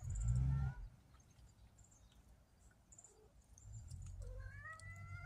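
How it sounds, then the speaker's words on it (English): A pet cat gives a few meows indoors, fairly close and moderately loud, with soft bird calls and low background rumble between them and a faint voice nearby. "My kitty's meowing"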